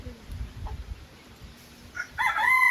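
Village yard poultry, hens clucking low and scattered before a rooster crows loudly near the end, close and clear with no talk.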